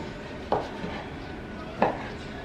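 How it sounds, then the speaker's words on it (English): A knife chopping cold food into bite-sized pieces on a board, two distinct sharp cuts about a second apart, close and clear over faint kitchen background. "I am just going to cut these into more like bite-sized pieces."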